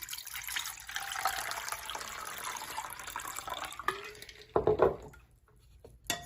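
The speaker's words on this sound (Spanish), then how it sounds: "ahora le voy a agregar 1 taza de agua helada" Ice water is poured from a cup into dissolved gelatin, a soft running liquid splash that builds and ends with a few louder sloshes and drips, close by with no talking.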